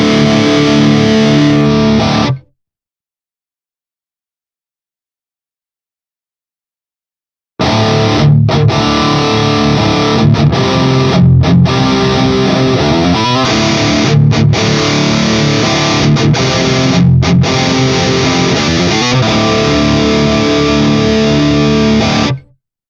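Loud, heavily distorted electric guitar heard through a raunchy 4x12 cabinet impulse response, playing in two bursts: a short riff, then a gap of silence of about five seconds, then sustained dense chugging with brief stops.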